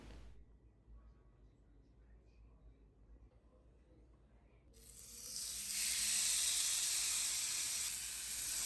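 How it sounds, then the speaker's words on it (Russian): Garlic-rubbed steaks hit a preheated grill in a home kitchen: after a quiet stretch with soft talk, a loud, bright sizzle bursts in and holds steady to the end. "Стейки я промазала еще чесноком и кладу в разогретый гриль."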